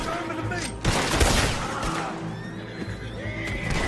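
A horse whinnies amid busy sounds of the video game Red Dead Redemption 2, with bursts of gunfire and some clattering in the background.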